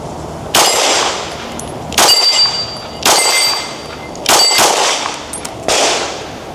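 Five sharp, loud shots from a ported CZ P10C pistol ring against a steel target, each a crisp crack and metallic clang spaced about a second apart outdoors, with no voices.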